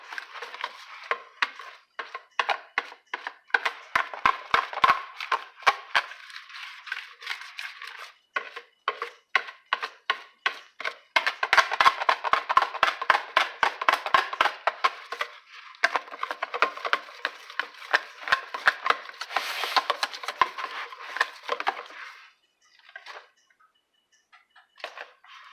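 A whisk beats pancake batter in a bowl with fast, steady rhythmic clacks. The strokes run loud and close in bursts with short pauses and slow near the end.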